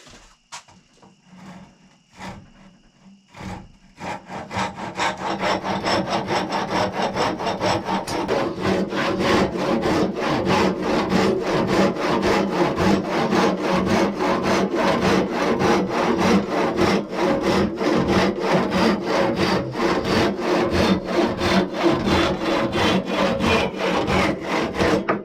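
A hand saw cuts a wooden tomahawk handle to length, starting with a few tentative strokes and then settling into a fast, steady rhythm of close, rasping back-and-forth strokes with no talking.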